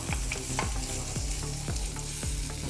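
Crushed garlic, ginger and green chilies fry in oil with small onions for a coconut crab curry: a loud, close sizzle with a spatula scraping the pan in regular strokes about twice a second.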